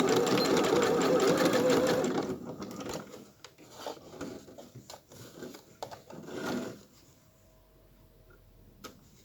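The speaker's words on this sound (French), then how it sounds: "on va faire la couture pour les 6 cm sans oublier de faire le point d'arrêt au démarrage" A sewing machine stitches a 6 cm pillowcase seam with a back-tack at the start. It whirs loud and steady for about two seconds, then gives short bursts and quieter mechanical handling.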